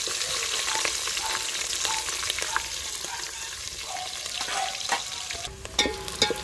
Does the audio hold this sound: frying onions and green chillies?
yes